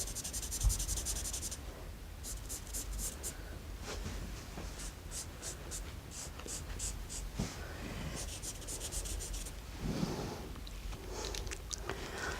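A pen scratches steadily across fabric as a loose tulip shape is drawn, a dry rubbing and scribbling texture in short strokes with small pauses, close up and fairly quiet.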